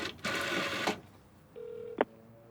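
Telephone dialing indoors: a brief steady tone, then a single sharp keypress beep, faint and close, after a stretch of rustling noise.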